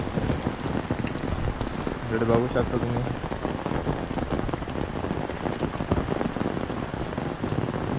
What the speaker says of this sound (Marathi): जोरात पाऊस आला